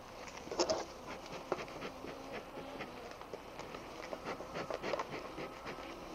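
Honey bees buzz around an open beehive outdoors, a low continuous drone with individual bees passing close by, faint and steady, with a few brief knocks and rustles of handling.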